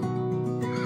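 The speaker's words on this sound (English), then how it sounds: "Horse." A horse neighs in a single close, loud whinny lasting under a second, with no other sounds around it.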